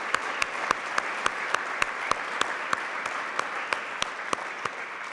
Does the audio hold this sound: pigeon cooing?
no